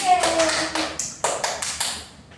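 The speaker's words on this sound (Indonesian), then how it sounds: "Sekarang beri tepuk tangan untuk kalian semua." Students in a classroom clap their hands in a brief burst of loud, distinct claps, spaced unevenly and fading toward the end, with a voice briefly audible.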